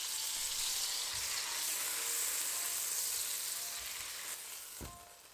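Burger buns toasting in butter in the same pan as bacon give a steady, close, broadband sizzle throughout, with a brief scrape near the end and no talking.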